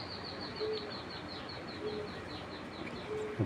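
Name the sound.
pigeons cooing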